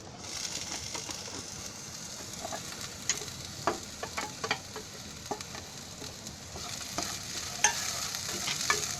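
Chilli, ginger and garlic being stirred in a pan without oil over a low flame while making potato and pea bhaji: a soft continuous sizzle with repeated scraping taps of a spoon against the pan, close and fairly quiet.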